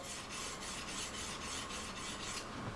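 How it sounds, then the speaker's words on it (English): A hunting knife edge drawn over a sharpening stone gives a steady, loud rasping scrape, repeated in quick even strokes about every third of a second without pause. "just hold it right flat down on that grind, just polish that edge"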